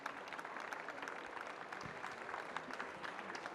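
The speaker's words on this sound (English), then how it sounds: "big round of applause to our panelists" Audience applauding panelists at a research conference, a steady, moderately distant patter of many hands clapping that holds evenly throughout with no voices.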